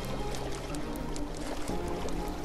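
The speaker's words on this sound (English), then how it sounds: "Behind the waterfall?" Steady rushing water from a waterfall in the video game Minecraft Dungeons, a continuous broadband wash with no pauses, fairly loud throughout.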